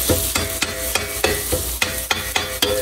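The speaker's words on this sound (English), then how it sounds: "I'm gonna start chopping the hamburgers into pieces." Hamburger meat and onions seasoned with salt and pepper are chopped into pieces in a sizzling pan for a chopped cheese sandwich. Sharp, regular scraping knocks land about every quarter second over a steady loud sizzle.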